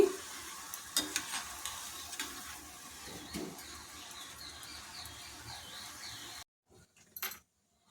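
Jantikalu, a crunchy murukku snack, fry in hot oil and are turned, giving a soft continuous sizzle broken by light clinks and stirring scrapes, close by and fairly quiet, then cutting off near the end.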